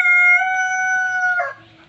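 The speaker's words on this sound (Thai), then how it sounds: "บ๊ายบายด้วยการฟังเสียงไก่ขัน" A loud, close rooster crow rings out in one long call that breaks off at the end, followed by quiet.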